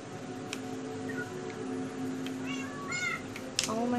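A Minecraft cat meows several times in short, tonal cries amid faint game sounds, with a person talking quietly in the background.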